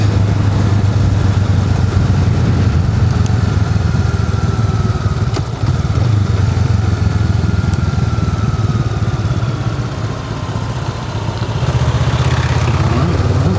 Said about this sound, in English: Up and roll off the throttle here, downshifting fourth.